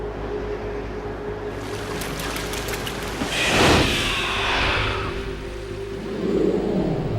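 Something running across water in the Metal Gear Solid 2 video game: a rushing, splashing surge that swells loudly over a constant low rumble, then fades into churning wash, with no talk.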